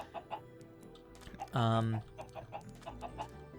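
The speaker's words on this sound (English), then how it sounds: "we've probably spent the last 5 just dragging chickens over a desert" Minecraft chickens cluck in short soft bursts, one louder squawk standing out, as the birds are led across a desert in survival mode.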